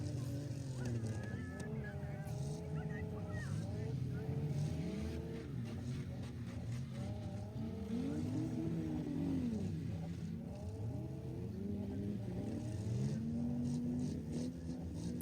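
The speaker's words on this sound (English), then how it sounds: "The Ute started up again." The engine of a Ute pickup revs repeatedly and roughly at a demolition derby, rising and falling throughout under an announcer's steady commentary, with more engine noise from other cars in the background.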